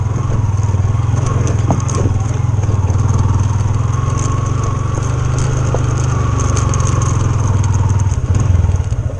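A motorcycle engine drones steadily and close throughout on a rough road, with rattling and clatter from the ride, rising slightly near the end.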